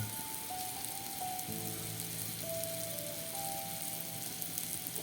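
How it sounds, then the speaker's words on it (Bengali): Shrimp and coriander leaves frying in a pan give a soft, steady sizzle with faint stirring, quiet and continuous, while a thin tonal hum drifts in the background; no one speaks. "আবার একটু নেড়ে চেড়ে নেব"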